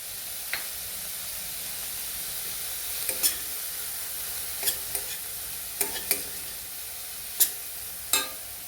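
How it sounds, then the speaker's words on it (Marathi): Onions fry in a pan with a little turmeric for egg bhurji, giving a steady soft sizzle broken by a handful of sharp spoon scrapes and clicks against the pan, fairly close. "छान कांदे पचवून घेणार आहोत असताना आपण त्याच्यामध्ये नॉर्मल थोडीशी हळद टाकायची"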